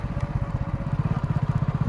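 A motorcycle engine chugs steadily nearby in a fast, regular low pulse, with no voices.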